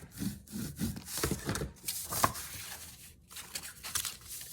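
Paper sheets, 6x6 in size, being folded and creased for a manila-folder folio, giving repeated close scraping and rubbing strokes, soft and dry, with no talking.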